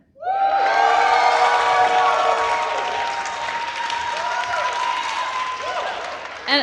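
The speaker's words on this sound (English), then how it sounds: "applause for the bad listener" A wrestling show crowd applauds loudly and steadily, with scattered cheers and whoops rising over the clapping throughout.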